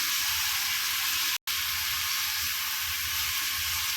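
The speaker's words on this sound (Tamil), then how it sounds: "இந்த இஞ்சி பூண்டு போட்டுடலாம்ப்பா. இஞ்சி பூண்டு பேஸ்ட்டு" Ginger garlic paste sizzles steadily as it fries in a pan, a loud, continuous close hiss with a brief break partway through.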